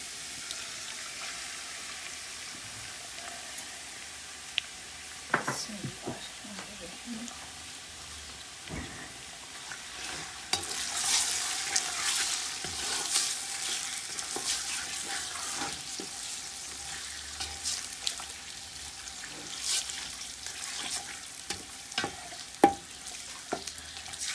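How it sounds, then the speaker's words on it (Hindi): Chicken frying in a pan for noodles, a soft sizzle with occasional stirring scrapes that swells into a louder, steady crackle about halfway through, with no talking. "ये हम 5 मिनट तक ऐसे ही भूनेंगे।"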